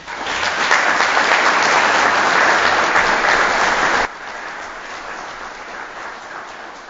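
Audience applause at a city board of mayor and aldermen meeting: steady, loud clapping from a room full of people for about four seconds, then abruptly cut to a quieter background hiss.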